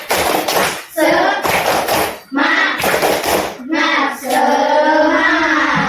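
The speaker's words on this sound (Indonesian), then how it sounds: "kita bertepuk semangat lagi" A school class performs the rhythmic spirit clap, tepuk semangat, with loud, close bursts of clapping in patterned groups separated by short pauses, alongside children's voices chanting in time.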